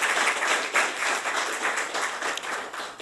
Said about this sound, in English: Give the committee members a round of applause.